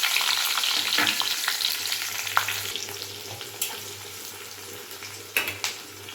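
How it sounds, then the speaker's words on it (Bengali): Chopped onions frying in hot white oil in a wok for cabbage chilli: a steady, bright sizzle throughout, with a few sharper pops and crackles near the end and no talking. "তেলটা যখন গরম হয়ে যাবে তখন দিয়ে দেব কেটে রাখা পেঁয়াজগুলো।"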